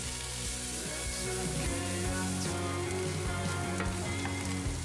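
Sliced onion frying in a pan with olive oil or butter, a loud, dense, continuous sizzle heard up close with no voices.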